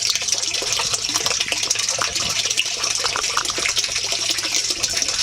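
Water gushes and splashes steadily in an off-grid homestead aquaponics setup, a close, continuous rushing flow with a faint rattle and no talking.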